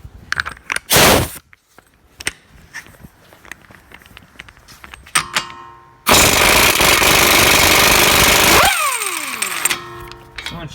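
Impact wrench with a chrome socket removing a wheel nut on a Dodge during rear wheel bearing work: scattered clanks and a short burst, then a loud sustained hammering rattle for about three seconds that winds down.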